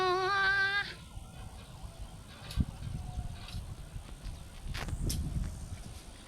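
A siren wails briefly at the start, then gives way to quiet outdoor background noise with a few soft knocks.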